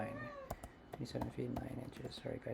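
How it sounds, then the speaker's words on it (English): A house cat meows loudly nearby, a couple of clear rising cries heard between and under a man's speech over faint clicking. "that's my cat"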